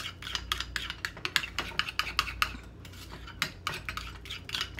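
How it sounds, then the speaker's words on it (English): Sugar stirred into a pot of crab sauce with a utensil, giving a steady run of close scraping, clinking strokes against the metal pot in a loose, repeating rhythm, heard alone without talk. "We're gonna give that a good little stir. Move some of that sugar around."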